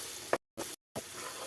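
Mango pickle masala being stirred in a hot pan, a soft sizzling scrape in short bursts separated by brief silences, close and alone.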